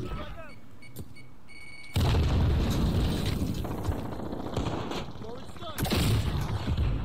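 A grenade blast in Call of Duty: Modern Warfare bursts loud and close, followed by sustained rumbling gunfire and a second heavy burst near the end, with faint game chatter early on.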